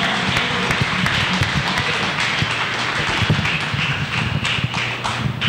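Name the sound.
church congregation clapping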